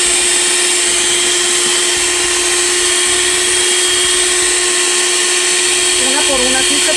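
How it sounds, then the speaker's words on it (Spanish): An electric mixer beating egg yolks for shrimp patties, a loud steady whirring motor drone that runs the whole time, with a voice briefly audible near the end. "vamos a poner de batir poco a poco lo que son las yemas"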